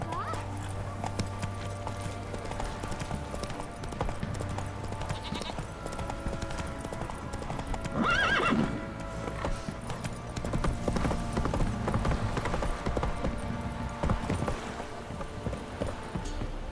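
A horse clip-clops along at a steady pace in The Witcher 3, hoof beats running continuously beneath game music, with a brief whinny midway and occasional animal bleats mixed into the background.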